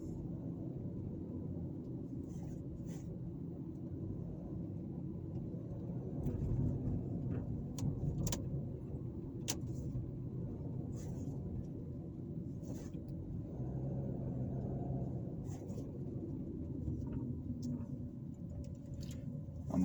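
Car driving through downtown Fairfield, Alabama, a steady low road rumble of engine and tires throughout, swelling slightly midway, with faint clicks above and no talking.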